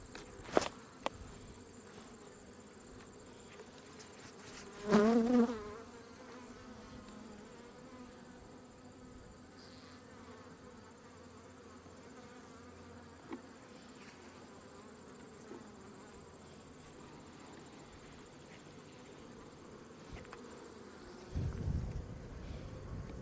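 Honeybees buzz softly and steadily in an opened hive while frames are lifted, with a louder close pass around the middle and faint handling knocks and shuffles throughout.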